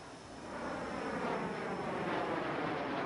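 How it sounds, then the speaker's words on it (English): NASA's Vomit Comet, a specially adapted passenger jet, roars steadily as it flies, a dense continuous engine rumble that swells slightly and holds at full strength, with no voices. "It's a specially adapted passenger jet that lets prospective astronauts experience the effects of weightlessness."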